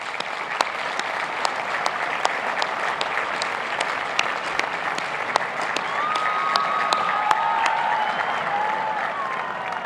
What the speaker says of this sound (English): I ask that you join me in a round of applause to thank them